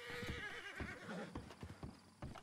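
Horse hooves clip-clopping in a rapid rhythm along with a whinny, heard in a video game chase with sheriffs, close and fairly faint, with no talk over it.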